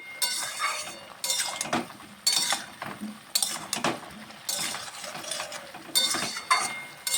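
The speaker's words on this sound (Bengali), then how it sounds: "হলুদ গুঁড়ো দিয়ে আমি একটু ভাজা ভাজা করে নিচ্ছি" Turmeric powder frying with kohlrabi in a pan while a spatula stirs, giving repeated metallic scrapes and clinks at a steady rhythm over a soft sizzle.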